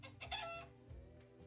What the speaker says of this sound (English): A hen. A hen,